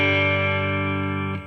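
A sustained electric guitar chord played through a Fender ToneMaster Pro running a Twin Reverb amp model rings out steadily with rich harmonics, then is cut off abruptly near the end.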